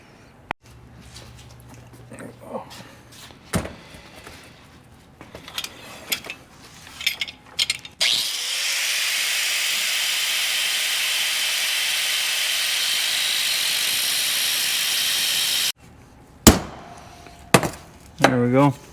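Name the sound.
die grinder cutting a bearing race on a Jeep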